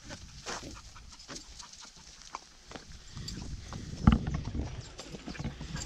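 A loose horse walks on a farm, its hooves clip-clopping in an uneven, close series of soft thuds with one sharper knock near the end, and faint birds and animals in the background.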